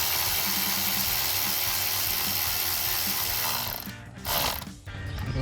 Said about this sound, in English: Insert that over, and then we're going to tighten it using 5/16 ratchet.